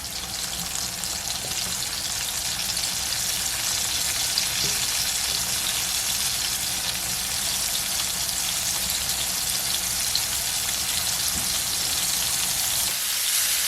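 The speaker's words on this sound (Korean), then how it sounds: "튀기듯이 구워줍니다." Steady, dense sizzling and crackling of small freshwater fish frying in a hot pan, continuous and fairly loud throughout with no voices.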